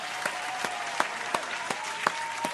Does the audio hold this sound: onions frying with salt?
no